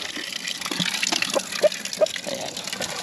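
Water runs from a farm faucet in a steady, gushing stream with a few sharp splashes and knocks on top, close and fairly loud, with no talking.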